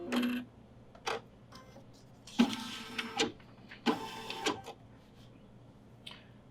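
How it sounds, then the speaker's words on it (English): An embroidery machine runs a basting stitch across a bunny cinch sack, giving soft mechanical whirring broken by several sharp, clattering bursts of needle and carriage movement at an even, moderate level, with no voices. "Now it's doing a basting stitch across the top here"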